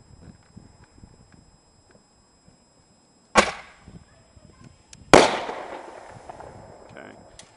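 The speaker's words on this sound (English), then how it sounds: "3, 2, 1, firing." Two fireworks set off by a wireless firing system at a live fire show go off in sequence, each a sharp nearby bang with a crackling tail, against quiet outdoor background.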